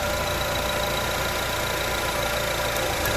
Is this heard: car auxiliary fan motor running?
yes